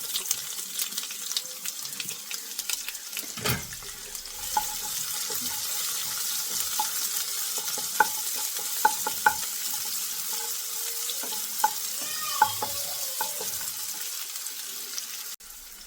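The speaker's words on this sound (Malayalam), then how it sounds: "ഇനി അതിലേക്ക് കട്ട് ചെയ്ത് വെച്ച വല്ലുള്ളി ഇട്ട് കൊടുക്കുകയാണ്." Shallots and dried red chilies frying with curry leaves in hot oil in a pan for a drumstick-flower thoran, giving a steady sizzle with scattered pops and crackles and a short clatter of stirring, no talking.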